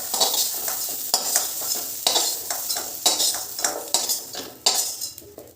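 Jackfruit seeds browned in hot oil in a pan, with a utensil stirring and scraping in repeated bursts over a steady sizzle, close by, with no talking.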